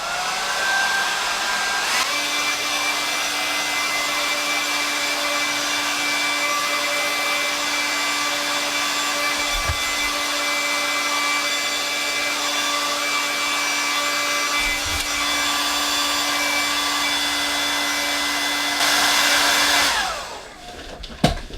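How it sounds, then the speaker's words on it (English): A hair dryer blows steadily for about twenty seconds, drying primer on miniature models, a loud constant whir with a faint tonal hum that rises briefly before cutting off with a click. "is hit it with the old hairdryer"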